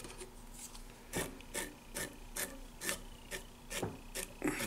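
Velcro brushed repeatedly over trimmed fly-tying material on a freshwater flounder fly, giving a series of short raspy strokes in a steady rhythm, close and fairly quiet, with no talking.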